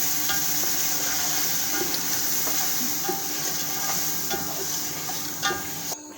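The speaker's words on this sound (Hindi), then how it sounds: "गोश्त को अच्छे तरीके से भून रहे हैं हम लोग, ताकि ये जो ऑयल वगैरह सारा उसमें मसाले मिक्स हो जाए।" Mutton being roasted and stirred in oil with spices for an Afghani Kabuli pulao, a steady loud sizzle and hiss of frying with faint scraping stirs throughout, no talk.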